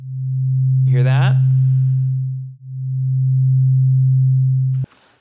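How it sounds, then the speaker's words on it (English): Two closely tuned pure sine tones sound together, their combined loudness swelling and dipping slowly as they drift in and out of phase, with one deep null midway; a brief spoken voice overlaps early on. "That pulsing of volume is what happens as the waveforms come into and out of phase with each other"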